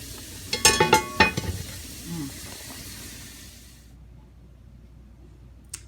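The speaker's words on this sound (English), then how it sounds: "we got this boiling vigorously now" A pot of rabbit fricassee boiling vigorously on a stove gives a bubbling, sizzling hiss, with a burst of clattering stirring at first that settles into a softer simmer and fades toward silence.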